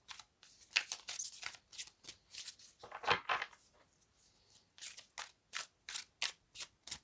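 A slippery deck of playing cards being shuffled by hand, bursts of quick crisp riffling and snapping that repeat in short rhythmic runs, close and fairly quiet, with no talking.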